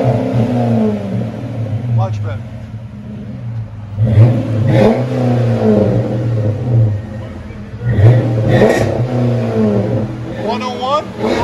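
A 2007 Chrysler 300C with a 5.7L HEMI V8 and Flowmaster 40 Series dual exhaust at a muffler shop idles with a deep, loud burble, then revs sharply in three distinct bursts, while people talk nearby.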